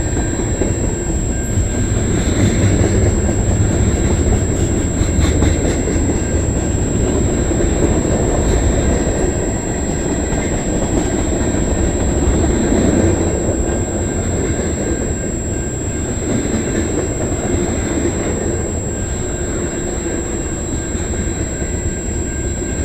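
A freight train passing on the Dundas Subdivision at Egerton Street in London, Ontario, a loud continuous rumble of rolling railcars with wheel clatter and occasional squeal, sustained and close for the whole stretch.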